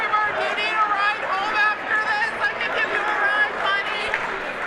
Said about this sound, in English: Folks, we apologize for the crowd noise in the background.